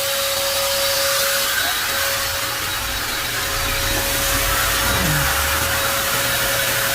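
A household vacuum cleaner runs steadily at close range, a constant broadband whir with a sustained tonal whine, switched on and left running without pause.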